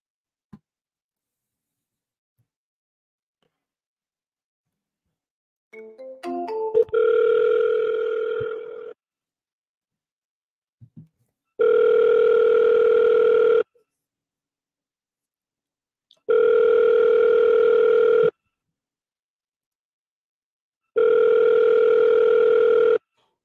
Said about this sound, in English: Let me call them and get confirmation.